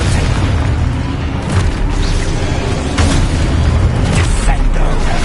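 Explosive booming blasts from the Expulso spell in a Hogwarts wizarding video game, a continuous loud rumble with several sharp bursts layered over dense battle noise and game sounds.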